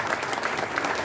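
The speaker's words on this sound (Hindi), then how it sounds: "उनके लिए भी एक बार जबरदस्त ताली होनी चाहिए।" An audience at a business event in Mumbai breaks into a short, dense burst of clapping, many hands close and loud throughout.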